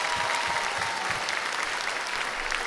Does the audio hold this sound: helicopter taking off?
no